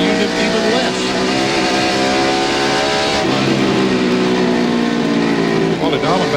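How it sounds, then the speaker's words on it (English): NASCAR stock car engines roar around Bristol's short track during the fall 1996 race, a loud continuous droning whine that shifts pitch as cars pass, with a commentator talking over it. "And we see Mark Martin, we listen to his engine and how little he's using the accelerator"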